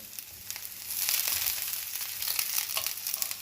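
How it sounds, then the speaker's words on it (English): Eggplant pieces sear in a hot pan, a close, bright sizzle that swells and crackles unevenly over a few seconds, with no voices. "So we have to just sear them a little bit"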